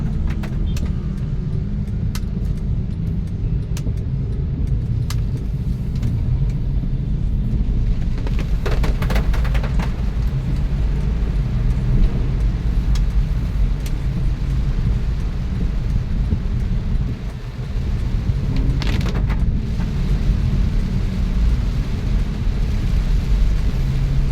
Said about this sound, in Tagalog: yung malakas na ulan ay siyempre hayaan lang natin